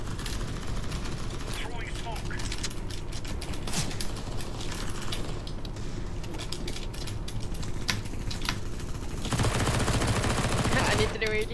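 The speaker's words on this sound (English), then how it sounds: "Gunshots everywhere." Rapid bursts of gunfire crackle repeatedly amid busy game noise in CS:GO, with a louder stretch of fire near the end.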